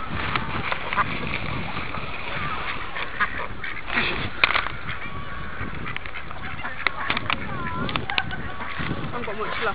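Hungry domestic ducks quack and honk loudly and repeatedly at close range, with scuffling as one bites another, while people talk over the noisy flock.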